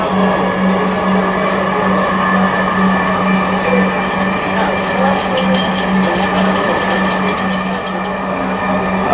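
A metro train in Dhaka, Bangladesh, rumbles along steadily with a constant low hum and faint rhythmic clatter, loud and continuous throughout.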